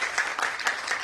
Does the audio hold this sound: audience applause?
yes